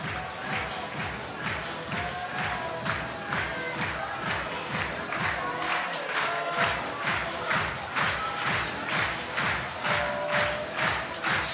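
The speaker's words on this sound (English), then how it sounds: "The crowd really getting behind Molly here" A crowd at a climbing lead semi-final in Prague makes sustained cheering and rhythmic clapping, a steady pulsing din of many voices and claps throughout, with commentary talk beneath.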